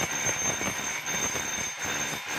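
DeWalt D25032 rotary hammer running in hammer mode, a steady, dense mechanical clatter with rapid percussive pulses that holds close and loud throughout, with no voices over it.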